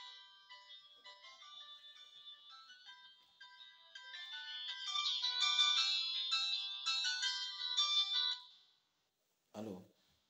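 A melodic electronic telephone ringtone plays alone, with repeated tonal phrases that grow louder toward the middle before stopping abruptly, followed by a brief spoken answer.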